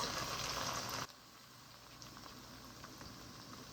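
Tomato paste sauce simmers in a pot, opening with about a second of louder bubbling before settling into a quiet, steady low burble.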